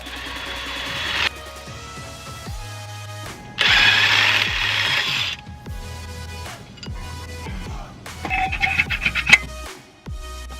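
A ratchet wrench works 17mm bolts loose on a Nissan 350Z's coilover suspension, heard as close mechanical clicking bursts with pauses between them and rapid ratcheting near the end.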